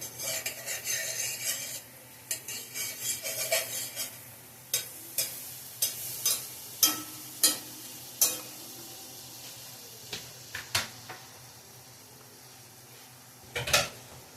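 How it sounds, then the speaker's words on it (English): About two teaspoons of butter melting and sizzling softly in a frying pan, a quiet steady crackle with clinking utensil taps and scrapes against the pan spread irregularly throughout, and one louder clatter near the end. "And in the pan, we add some butter, about 2 teaspoons."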